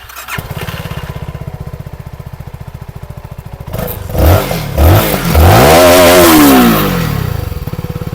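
A CFMoto 300NK 300cc motorcycle, Euro 4 compliant, idles with a loud, steady chug, then its engine is revved in several sharp rising blasts before settling back to idle, close up.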